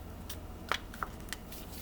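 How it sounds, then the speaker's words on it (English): Faint, quiet riffling of tarot cards being shuffled, with a few soft flicks and snaps close by. "I'm being told to take the King and Queen of Cups back and to shuffle my cards"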